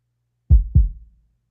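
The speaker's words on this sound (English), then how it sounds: "So just listening to the heartbeats here." A deep, low heartbeat sound effect gives two quick soft thumps in a lub-dub pair, close and isolated against silence, tuned low so it sits near a kick drum.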